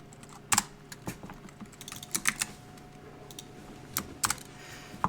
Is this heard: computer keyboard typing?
yes